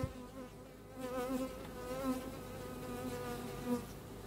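A dense swarm of bees hums steadily around an open beehive frame, close and continuous, with individual buzzes rising and falling in pitch.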